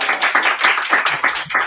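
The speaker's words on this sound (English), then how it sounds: "Big round of applause." Brief applause from a small audience, heard as a quick run of distinct, closely spaced handclaps lasting under two seconds.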